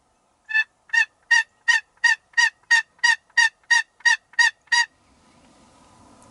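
A wild turkey calls in a steady series of about a dozen evenly spaced, loud, nasal notes, close by, followed by faint background noise.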